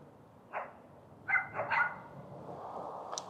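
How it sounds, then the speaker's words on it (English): A dog barks a few times outdoors in Navasota, Texas: one bark, then a quick cluster of two or three, moderately loud over steady background noise. "Excuse the dog."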